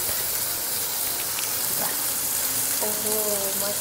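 Okra fries and is stirred in a pan, giving a steady hissing sizzle throughout, with a voice briefly heard near the end.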